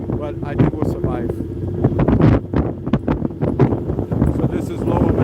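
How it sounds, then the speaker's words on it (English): Strong wind on a New York City ferry buffets the microphone in low rumbling gusts throughout, loud and constant, with faint voices underneath. "It's a little windy, but I think we'll survive."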